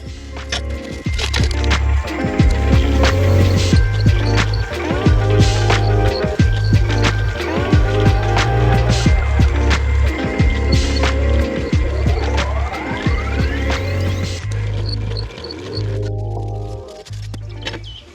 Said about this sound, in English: now I got all these holes reamed